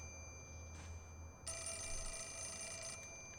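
Old telephone ringing in a dim room with papers and sinister masks in Fatal Frame: Mask of the Lunar Eclipse: a brief faint chime, then a long, bright metallic bell ring over a low ambient drone, with no voices.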